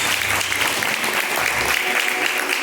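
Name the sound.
congregation clapping to praise God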